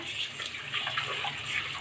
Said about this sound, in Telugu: ఇప్పుడు బాగా కడిగి పెట్టుకోవాలండి చూడండి వాటర్ వేసి బాగా